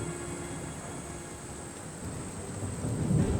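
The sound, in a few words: thunderstorm with rain starting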